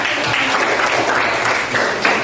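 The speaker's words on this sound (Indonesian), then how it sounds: "Kasih tepuk tangan." Students in a classroom clap together in a steady, close burst of applause that holds evenly throughout, with no talking over it.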